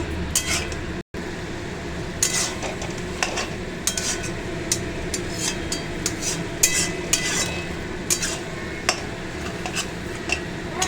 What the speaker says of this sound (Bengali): গ্যাস বাড়িয়ে ভাজা ভাজা হোক।